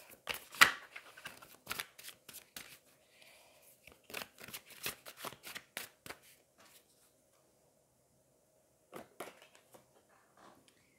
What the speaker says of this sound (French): on va aller prendre d'autres cartes